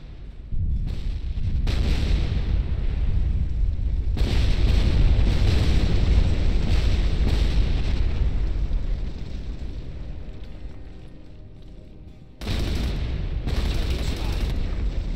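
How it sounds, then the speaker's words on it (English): Mortar shells explode in Ghost Recon Advanced Warfighter 2, a run of loud, heavy booms with deep rumbling that roll on almost without a break, fade for a moment, then return with fresh blasts near the end. "Mortar fire!"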